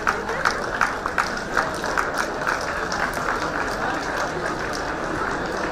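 Continuous audience applause at a fintech conference, an even patter of many hands clapping with a few louder nearby claps punctuating the steady wash.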